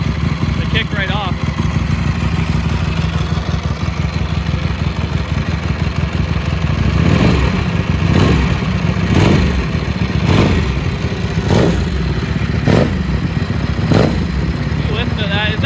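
A Ducati Desmosedici RR street-legal MotoGP-derived motorcycle engine running loud and close, a rough steady idle broken by a string of sharp revving blips in the second half.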